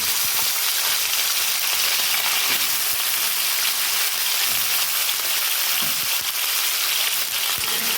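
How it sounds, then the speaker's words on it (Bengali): New potatoes fry in oil seasoned with nigella seeds, making a loud, dense, continuous sizzle close by, with occasional low thumps and clinks of stirring beneath it. "আলুটা প্রথমে একটু ভালো করে ভেজে নেব"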